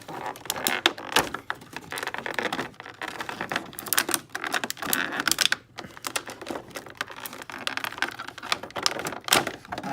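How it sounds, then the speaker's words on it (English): Plastic blister packaging is pulled and torn away from Marvel Legends Iron Man Tony Stark and Mark 1 action figures, giving a loud, continuous run of crinkling, snapping and crackling bursts with no talking. "we're going to take these out of the plastic. It's going to get a little loud"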